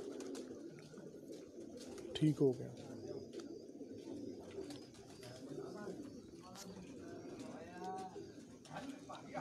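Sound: racing pigeon cooing

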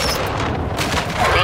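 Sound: grenade explosion and gunfire in video game Call of Duty: Modern Warfare II

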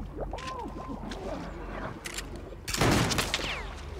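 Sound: gunshots fired at player in a video game

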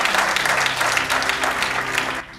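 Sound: congregation applauding

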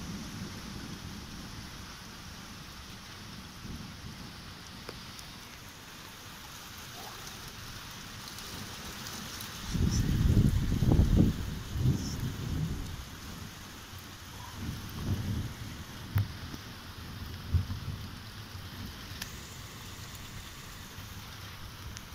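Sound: thunderstorm with rain and thunder

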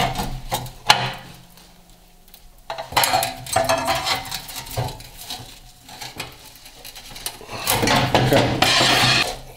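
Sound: big screwdriver prying Bronco door post sheet metal

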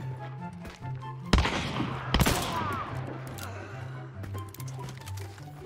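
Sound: gunfire in the video game Hunt Showdown

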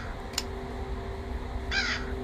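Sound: crow cawing in the video game Granny

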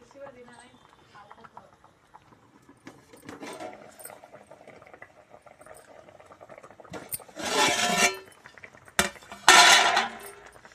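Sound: fish curry boiling in a pot

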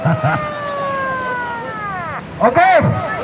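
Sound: siren sounded at beach flag-raising ceremony

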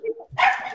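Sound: dogs barking

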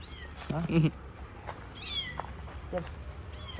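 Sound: cat meowing

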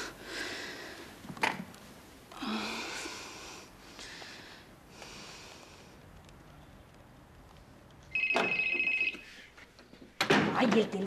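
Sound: telephone ringing

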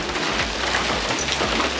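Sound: heavy rain

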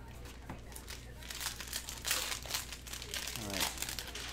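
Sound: tearing open a Panini Prizm football cello pack

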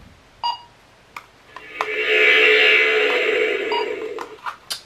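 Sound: annoying electronic beep from a gadget

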